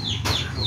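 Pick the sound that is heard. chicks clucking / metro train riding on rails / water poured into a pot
chicks clucking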